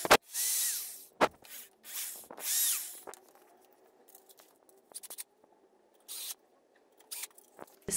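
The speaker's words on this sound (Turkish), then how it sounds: "Tabii yarılmasın diye delikleri açacağız." A power drill bores holes in wood for the hinge of a homemade easel, several short loud bursts broken by quiet pauses and small handling clicks.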